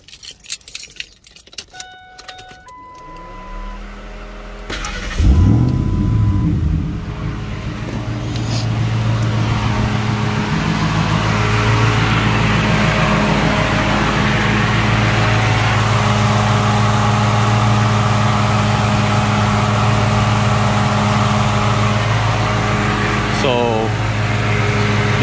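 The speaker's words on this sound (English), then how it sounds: "one of the fans is gonna turn on." Keys jingle, then a hot truck's engine starts and idles. An electric radiator cooling fan kicks on with a loud, steady whoosh over the engine hum, and a voice speaks over it.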